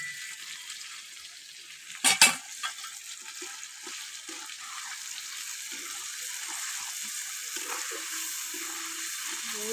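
Spices (cumin, turmeric and chilli powder) are sautéed for a potato and prawn curry on a clay stove, giving a soft, steady sizzle with a brief louder clatter of stirring near the start.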